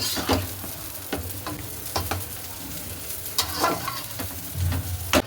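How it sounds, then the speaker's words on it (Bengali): Chicken being sautéed in oil in a pan for a Bengali red chicken curry, with close, repeated scrapes of a stirring spoon over a steady low sizzle and no talking. "এখানে চিকেন কষাচ্ছি আমি চিকেন এখন কষানো চলছে"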